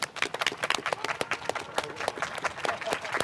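Audience at a North–South Korean empathy talk concert claps to welcome a singer, a brisk crowd of many hands clapping steadily and close, with a faint murmur beneath.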